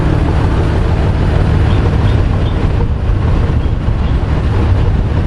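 An old MAN Diesel 32.281 tipper truck drives along in The Gambia, giving a loud, steady low rumble of engine and road noise with no break throughout.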